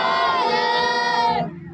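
A Sikh congregation at a Hola Mohalla langar shouts the jaikara response in unison, one loud sustained collective cry from many voices that holds for over a second, then drops off abruptly.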